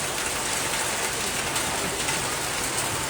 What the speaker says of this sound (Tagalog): ang dilim pa po, tapos ang lakas-lakas pa ng ulan